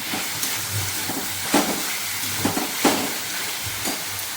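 Two medium tomatoes fry in a pan for palak paneer, giving a steady soft sizzle with regular scraping stir strokes every second or so, close up, and no voices.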